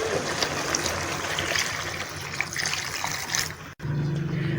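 Hot water pours into a cooking pot for a Bengali doi maach dish, a steady gurgling, splashing stream that continues close and fairly loud for several seconds before a brief cut.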